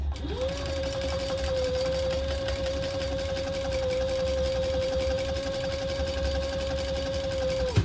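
A sewing machine stitches a Belladonna crossbody bag, running steadily and close for nearly eight seconds with a constant whirring drone and no pauses.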